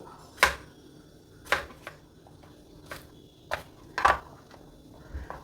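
A knife chops brinjal into pieces on a board at home. Five or six separate, sharp cuts land at uneven gaps over a quiet kitchen background.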